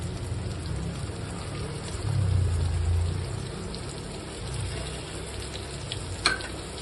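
Ground spices, turmeric and chili powder sizzling in hot oil in a pan for a fish curry, a steady crackling hiss with a low scraping swell as they are stirred, then a brief knock near the end.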